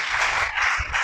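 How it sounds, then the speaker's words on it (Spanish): Dense, continuous applause from a congregation at a Spanish-language religious service, a full steady wash of many hands clapping at once, fairly loud and close, with no voices over it. "Dale un aplauso."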